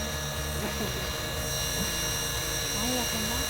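A 450-size UH-1 police-livery RC model helicopter flying, its steady high motor whine and rotor drone running unbroken while a voice talks over it.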